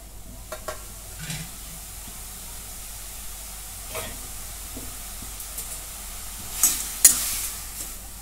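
Grated pumpkin frying in a kadhai, a soft steady sizzle with a few faint scrapes of stirring, quiet and close, with no talking.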